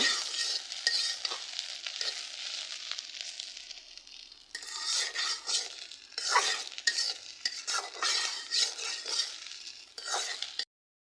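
Spice masala frying in a pan, a bright continuous sizzle broken by repeated scraping strokes of a stirring spoon, fairly close.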